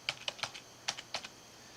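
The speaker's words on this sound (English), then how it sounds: "And I'm going to type in Space Coast." Quiet, quick keystrokes tap on a computer keyboard, about ten light clicks in short bursts with a brief pause midway.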